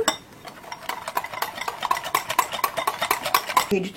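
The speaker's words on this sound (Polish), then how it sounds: "I teraz rozrabiam trzepaczką" A wire whisk beats sour cream in a bowl with quick, rhythmic metallic taps and scrapes, close and fairly loud, at a steady brisk pace.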